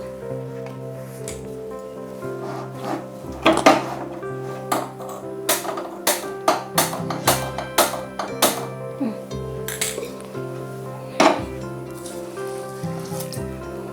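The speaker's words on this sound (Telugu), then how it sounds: "కుక్కర్లో రైస్ వేసేసుకుంటున్నానండి" Soaked rice tipped into a pressure cooker on a lit stove, a series of clinking metallic taps and rattling scrapes coming in close irregular clusters, with a hum underneath.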